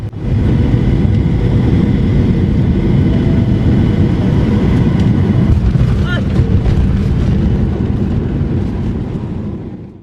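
A loud, steady roar of an Azores Airbus neo landing in strong crosswinds on the runway, broadband rumble and whine holding constant throughout before tapering slightly at the end.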